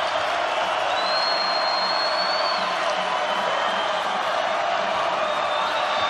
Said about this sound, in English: And the crowd comes alive.